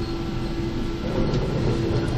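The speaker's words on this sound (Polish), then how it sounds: "W większości tramwaj jedzie na tak zwanym wybiegu, czyli sam." A 105Na tram coasts along the rails without power, with a steady low rumble and faint metallic hiss, heard from inside, continuous with no voices.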